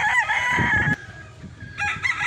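A rooster crows at a gamefarm, one loud, close crow followed by a brief pause and the start of a second call, with no talk over it.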